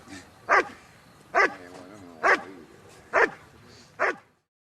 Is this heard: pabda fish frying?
no